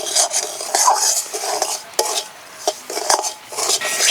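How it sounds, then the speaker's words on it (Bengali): Semolina toasting in ghee for a lychee halwa is stirred in a pan, giving a steady run of close scraping and rustling strokes with a soft sizzle underneath and no voices. "সুজি হালকা করে একটু ভেজে নিলাম"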